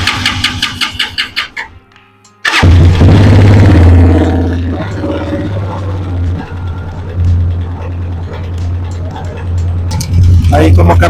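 An Italika DM 200 motorcycle engine idles fast at high revs, a loud steady mid-range drone that runs almost the whole time after a brief break, with someone talking over it.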